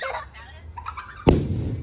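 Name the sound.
firecrackers bursting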